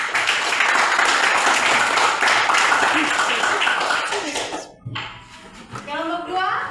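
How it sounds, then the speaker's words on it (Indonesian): A classroom of students applauding a presentation group, with several seconds of brisk, full clapping that cuts off abruptly before a voice starts speaking. "tepuk tangan dulu kepada kelompok 1"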